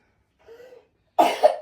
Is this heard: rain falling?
no